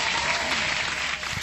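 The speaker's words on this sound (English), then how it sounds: "Hand clap for the market." A hand-clapping sound effect: dense, steady applause-like clapping, loud and close, running without pause and with no voices over it.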